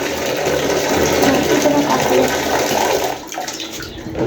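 Water pours steadily into a pet birds' water container in a village courtyard, a continuous close splashing rush that thins and drops off near the end.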